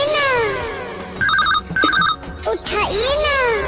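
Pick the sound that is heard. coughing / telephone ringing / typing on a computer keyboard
telephone ringing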